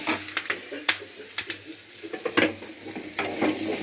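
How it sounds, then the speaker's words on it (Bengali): Chopped vegetables fry with panch phoron in a pan, a steady sizzle broken by repeated scraping and clacking strokes of a spoon as they are stirred, close up, with no talking. "তো বন্ধুরা দেখো আমি আনাজটা একটু নাড়াচাড়া করে নিচ্ছি"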